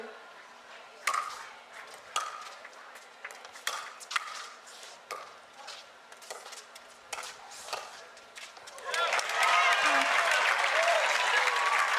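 Spectators at a pickleball match clap in scattered bursts between sharp paddle pops, then break into loud sustained cheering and applause near the end.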